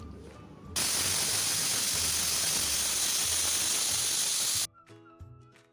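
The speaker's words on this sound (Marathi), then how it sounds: "आता कुकरचं झाकण लावून हाय फ्लेमवर आपल्याला 3 शिट्ट्या काढायच्या आहेत" A pressure cooker cooking veg pulao on high flame lets out a loud, steady hiss of escaping steam lasting about four seconds, then stops abruptly, with no talking.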